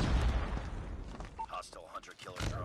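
Loud gunfire bursts and booms in Call of Duty Mobile overlap with a person talking, continuous and dense throughout.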